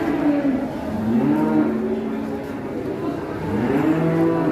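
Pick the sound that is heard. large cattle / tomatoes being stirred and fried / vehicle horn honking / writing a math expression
large cattle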